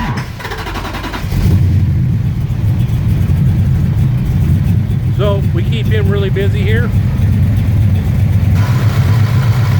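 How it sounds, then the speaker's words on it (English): A performance car fired up from cold in a busy tuning shop, its engine catching and settling into a loud, steady idle with a deep rumble, while people talk over it nearby. "He's gonna fire it up and do some cold startup tune-up"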